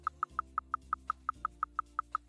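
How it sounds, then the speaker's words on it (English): Bright little chirps repeat about thirteen times at an even, quick pace, each short and clear above a low steady hum. "Oh, I hear a little bit of chirping."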